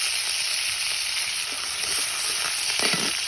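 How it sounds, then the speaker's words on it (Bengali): Okra sizzling steadily in hot oil in a pan, a continuous close frying hiss with a few soft stirring scrapes near the end and no talking. "ঢেঁড়স ভাজি করবো।"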